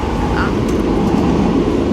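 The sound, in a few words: inside a Paris RER A suburban train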